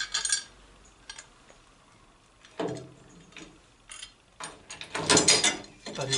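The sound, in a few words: driving in screws on Traction 11B trunk hinge fittings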